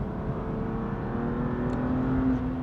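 A car engine whirs and pulls steadily in third gear on a wet race track during a Bilster Berg trackday, heard from close inside the car, a continuous droning tone without voices.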